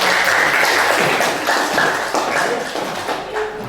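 Audience applause following a classroom group presentation, a dense steady patter of many hands clapping throughout, fairly loud and close, with no talk over it.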